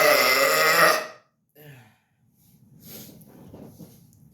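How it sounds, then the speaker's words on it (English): A loud, drawn-out burp lasts about a second at close range, then a shorter guttural belch follows after a pause, trailing into quiet rustling and faint breathy noise. "Just burping."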